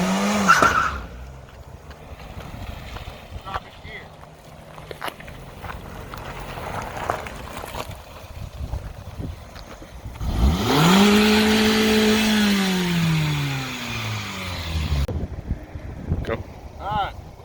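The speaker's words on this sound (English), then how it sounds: "neutral, rev it up." An automatic car's engine, either a Ram V8 Hemi or a Kia Soul four-cylinder, is revved in neutral for a neutral drop burnout, one rising and falling surge after a quieter idle stretch, with wind buffeting the microphone.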